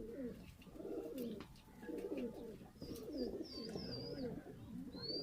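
Teddy Ferozpuri pigeons on a rooftop coo in repeated low, rolling phrases throughout, with faint chirps from other birds in the background and no talking.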